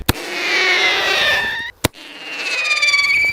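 A bird-scaring device plays a recorded starling distress call: loud, harsh screeching with sweeping whistled tones, broken by two sharp clicks, continuing alone and close throughout.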